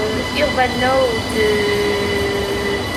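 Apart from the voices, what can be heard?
trains passing behind the speaker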